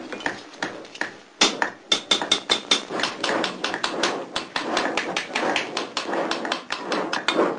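A smith hammers gold into traditional shapes, with rapid, sharp metallic taps repeating in an uneven rhythm, close and fairly loud throughout.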